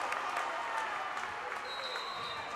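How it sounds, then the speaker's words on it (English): Cheering and applause from a high school boys basketball crowd in a gym during a Kearney versus Bryan game, a steady, loud, dense roar of clapping and voices across the whole stretch. "The crowd loves it."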